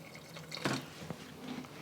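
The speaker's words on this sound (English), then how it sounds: "I am gonna add maybe a cup of water and thin it out a little bit." Hot water poured from a cup into thick turkey congee to thin it, a brief close splash and trickle of liquid followed by a few faint drips, with no talking.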